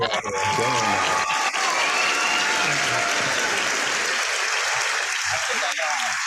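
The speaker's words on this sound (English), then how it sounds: "I give you a round of applause." Continuous crowd applause fills a talk-show style interview setting, steady dense clapping throughout, with voices faintly audible underneath.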